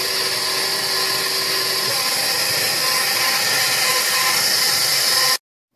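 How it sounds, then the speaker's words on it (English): An electric stand mixer fitted with a dough hook churns low carb bread dough, giving a steady, loud whirring motor hum that runs evenly without pause, then cuts off abruptly. "I'm just going to put my hook on. You can make this in the bread machine."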